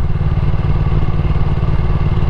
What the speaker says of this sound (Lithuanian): Ir jisai toksai važiuoja antrų bėgius, tai toks tamposi